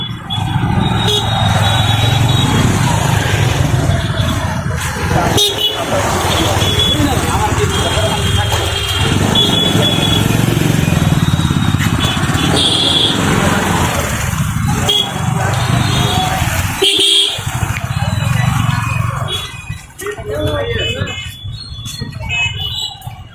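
Motorcycles and other traffic cross the Keane Bridge in Sylhet, a loud, steady wash of engine and road noise that runs almost unbroken from start to finish, with people talking over it.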